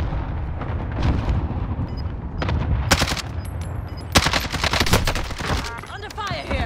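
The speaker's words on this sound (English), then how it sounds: "Under fire here." Rapid automatic gunfire and heavy bursts crackle in Call of Duty Warzone, coming in dense volleys and scattered shots over a constant low rumble, with voices talking over the shooting.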